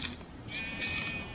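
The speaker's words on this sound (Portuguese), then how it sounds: "Ovelha, bora." A Minecraft sheep gives a couple of short bleats in the survival game, clear and alone with no talk.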